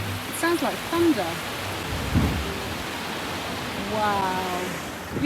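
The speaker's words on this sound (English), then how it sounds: "I don't think I've ever seen a blowhole in action like that" Outdoors at a sea blowhole near Boscastle harbour in Cornwall, a constant deep roar like thunder and crashing water fills the air, with a low thud near the middle and people talking over it.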